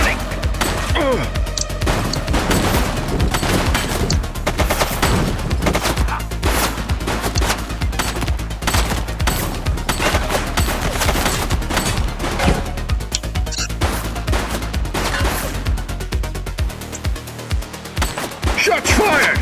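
Heavy gunfire fills a police shootout in The Precinct, with rapid bursts and single shots cracking nonstop, close and loud, with impacts and crashes mixed in.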